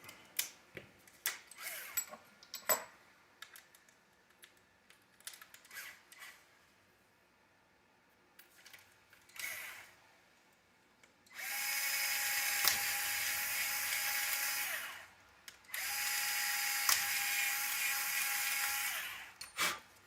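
Light clicks and handling noises, then a power drill whirs loudly in two steady bursts of several seconds each, close by, while assembling a radio tray.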